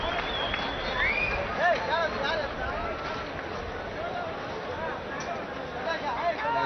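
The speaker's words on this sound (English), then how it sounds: "they've asked the players to come out, so a big cheer from the crowd" A cricket crowd at Sharjah gives a broad, continuous roar as players return to the field during an India versus Australia match, with a commentator speaking over it.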